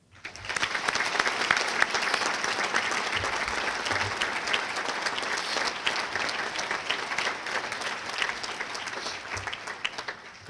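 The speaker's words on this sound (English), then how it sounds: "Now for your round of applause." An audience at a Hall of Fame induction ceremony gives a sustained round of applause, dense steady clapping from a large crowd lasting about ten seconds before fading out.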